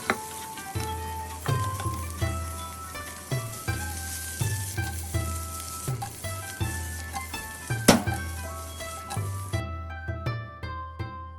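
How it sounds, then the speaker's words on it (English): Peeled shrimp sauté in hot oil in a heated pan, a bright steady sizzle running beneath rhythmic background music until it cuts off near the end, leaving the music alone. "saute your peeled shrimp until it's golden brown"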